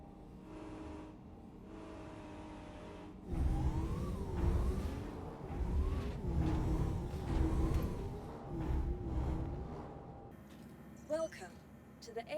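A Mule ground vehicle in Star Citizen drives toward landing pads: a loud, wavering motor drone rises and falls for several seconds after a steadier hum, then gives way to a thinner electronic tone near the end.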